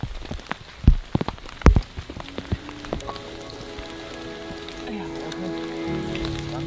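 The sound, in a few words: heavy rain falling on a deserted island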